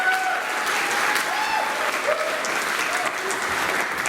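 Warm applause from a seated audience at a Hall of Fame induction ceremony, steady and moderately loud clapping with a faint murmur of voices underneath, sustained for the whole stretch.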